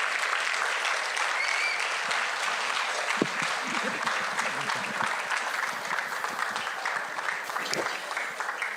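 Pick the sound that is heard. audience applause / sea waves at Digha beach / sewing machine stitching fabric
audience applause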